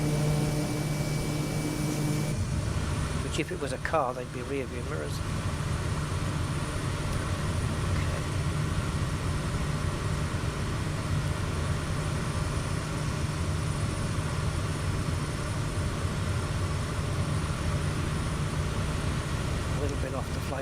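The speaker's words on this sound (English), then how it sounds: "Sounds like a jet prop or something. It's got a lovely sound to it." Turboprop aircraft engine in Microsoft Flight Simulator, a steady droning hum that runs throughout at an even level, with someone talking over it for much of the time.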